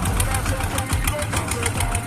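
A modified radio-controlled farm tractor's engine runs in a steady, close, continuous chugging drone with a fast even knock throughout.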